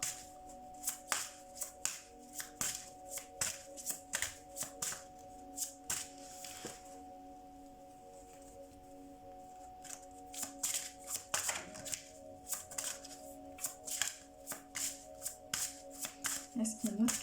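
Tarot cards shuffled by hand in repeated quick riffling and rustling bursts, close and crisp, pausing briefly midway before resuming, over a steady low background tone.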